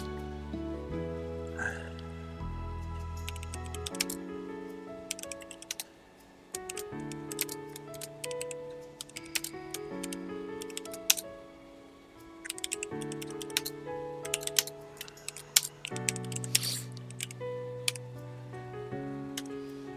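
Someone types steadily on a computer keyboard, producing rapid, irregular close-up clicks with brief pauses, heard over continuous melodic background music.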